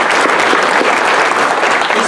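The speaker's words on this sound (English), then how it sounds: "please join me for a round of applause for the committee" Audience applause for an event committee at a GIS conference welcome, a loud, dense wash of many hands clapping steadily throughout, close and unbroken, with no voices rising above it.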